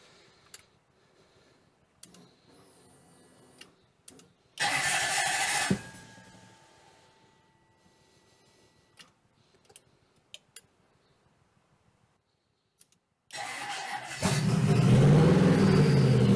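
A 1UZ V8 engine swapped into a Ford Focus cranks with a burst of engine noise, falls to quiet ticking and clicks, then fires and settles into a loud, close, steady running roar near the end.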